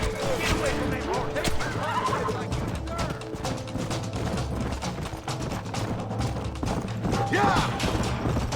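Horse whinnying amid a chaotic attack in the video game Red Dead Redemption, with shouting voices, clattering and crashing noises layered over continuous rumbling action, a couple of high neighs rising out of the mix.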